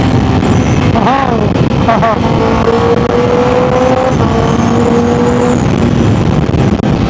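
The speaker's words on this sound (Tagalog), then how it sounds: "mas maingay yung Fireblade ko" A Honda CBR1000RR-R Fireblade SP motorcycle with a titanium full-system exhaust runs close and loud, its engine droning with a couple of quick rising rev sweeps early on and a steady hum after, mixed with passing traffic.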